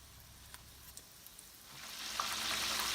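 Food frying in hot oil during Ramadan meal prep: a soft sizzle that swells into a steady, loud hiss over the second half, with a few faint clicks early on and no talking.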